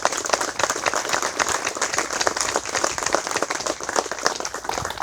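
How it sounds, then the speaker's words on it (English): Outdoor crowd applauding city utility workers at a gas main renewal groundbreaking ceremony, dense continuous clapping held steady for several seconds. "let's give our coworkers at City Utilities a round of applause"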